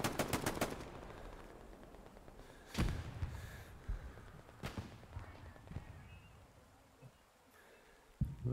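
Gunfire in the World War II shooter Hell Let Loose: a rapid burst of automatic fire opens, followed by scattered single heavy shots and distant thumps over a low battlefield rumble, with no talking.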